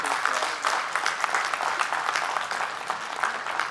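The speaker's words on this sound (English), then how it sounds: "Let's give a round of applause." Conference audience applause, a continuous even patter of many hands clapping from a moderately distant crowd, sustained for a few seconds without a clear fade.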